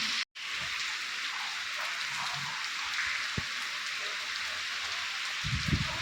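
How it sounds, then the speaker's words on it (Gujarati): Steady, heavy rain hisses continuously, with a brief dropout near the start and a few low thumps of drips or distant rumble toward the end. "વરસાદે વધી ગયો"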